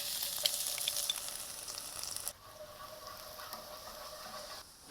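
Minced garlic frying in hot oil for a Vietnamese cabbage stir fry, a close, bright sizzle that drops to a quieter crackle partway through.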